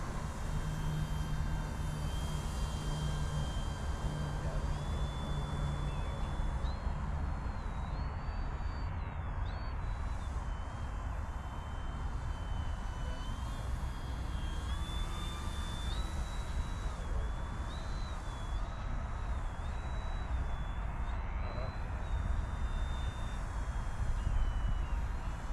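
A Durafly Tundra V3 RC STOL plane drones steadily while flying slowly, its electric motor a continuous whine over constant wind and outdoor noise.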